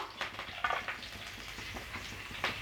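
Halved green chilies and lengthwise-sliced onion fry in a pan for poori masala, giving a soft, continuous sizzle with light stirring bursts, fairly quiet and close.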